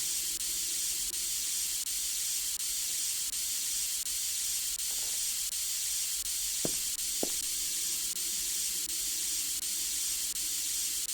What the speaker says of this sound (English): Oops, the steam is escaping, the pressure is falling